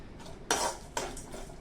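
Desiccated coconut dry-roasting in a pan, stirred with a spoon that gives three or four distinct scraping strokes and clinks over a faint background, close and with no speech.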